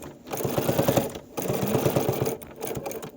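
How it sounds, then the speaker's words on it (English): A sewing machine stitches in the ditch along the seams of a quilt, running with a steady rapid needle rhythm in close, continuous bursts separated by two short pauses. "And then I'm going to complete the ditch stitching."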